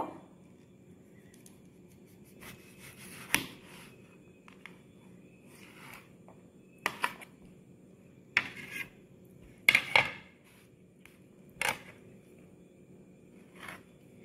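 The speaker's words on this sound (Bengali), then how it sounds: "এদিকে একটা হিমসাগর পাকা আম নিয়েছে, এটা আমি কেটে নেব।" A ripe Himsagar mango being cut with a knife, heard as a few faint, scattered clicks and clacks of the blade against a plate in a quiet room.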